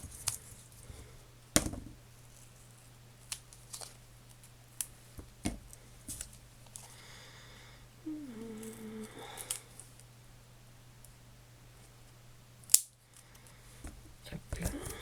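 Scissors cut out a paper pouch pattern at a craft table, with sparse crisp snips and clicks spread over the stretch, quiet and close with faint background hum.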